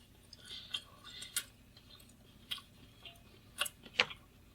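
Someone chews a piece of homemade sourdough bread close to the mic, quiet with a few sharp crunchy bites and clicks scattered over several seconds.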